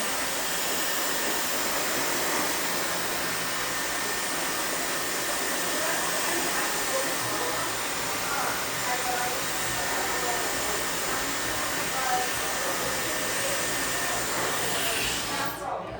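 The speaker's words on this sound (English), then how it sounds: "who wants to spend all day drying their hair" A hair dryer blows steadily on hair for a home blowout, a close, loud, continuous airy roar that stays even for the whole stretch before cutting off at the very end.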